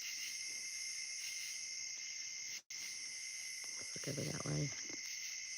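Crickets and katydids chirp at night in a rural hollow, a steady high, continuous insect drone filling the background at low level, with a person speaking briefly over it.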